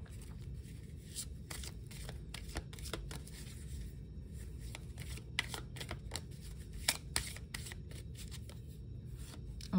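Angel oracle cards being shuffled by hand, a steady run of soft papery riffles and flicks with sharper snaps scattered throughout, close and fairly quiet, with no voices.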